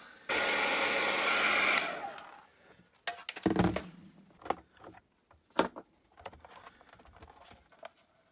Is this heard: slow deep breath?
no